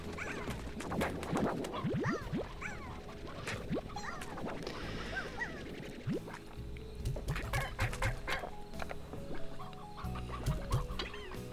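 Video game chickens cluck and squawk over a continuous noisy background, a busy scatter of short calls throughout, moderately faint.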